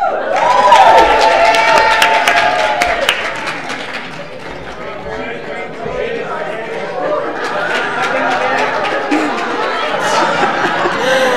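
Applause and lively chatter from a church congregation during a youth-led service, with clapping mixed into a busy crowd murmur, some laughter and voices talking throughout.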